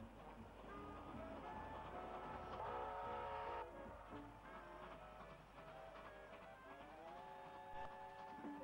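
A steam locomotive train rumbles steadily with rail noise and a sustained whistle tone standing out for a few seconds, a continuous mechanical din with no talking.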